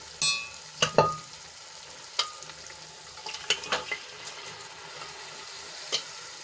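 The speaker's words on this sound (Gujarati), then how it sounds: "હવે એમાં આપણે બાફેલા વાલ ઉમેરી દઈશું" Boiled dried val beans stirred into a thick spice gravy in a pot, with a handful of close, sharp spoon scrapes and knocks spaced irregularly over a soft, low sizzle.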